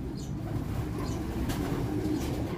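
A racing pigeon back at its home loft coos softly amid steady low background noise, the calls faint and partly masked, with no talking.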